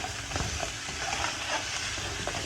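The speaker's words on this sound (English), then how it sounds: "You hear that sizzling?" Oxtail sizzling in a pot, a steady, close crackling hiss with occasional stirring scrapes and no one talking.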